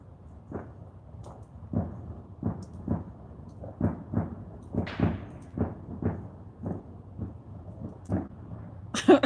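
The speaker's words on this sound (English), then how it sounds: "It sounds like they're doing a second fireworks show." A distant fireworks show sounds as a series of muffled, low booms spaced a second or so apart, each fading quickly, heard from afar on a quiet night beside a dying fire, with no talking.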